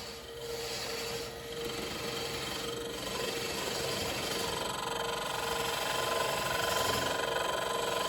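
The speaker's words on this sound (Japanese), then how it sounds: "振動音が聞こえるのでテールストックでサポートします。" A wood lathe turning quince burl for a wine bottle stopper gives off a steady, fairly quiet vibrating hum and rasp throughout, with slight swells in level.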